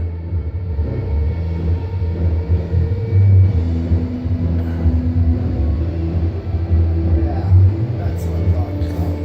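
Fans installed in the Metal pad run on high, a loud, steady roaring rumble that swells briefly twice and never lets up, with voices faintly underneath.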